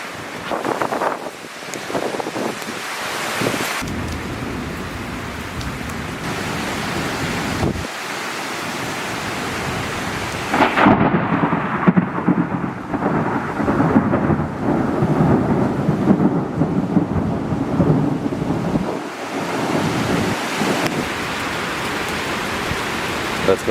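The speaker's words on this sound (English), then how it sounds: "That storm was only about an hour long" A summer thunderstorm passes overhead: deep thunder rolls and heavy, sustained rumbling mix with gusty wind buffeting the microphone. The storm swells loud midway, and faint human sounds come and go.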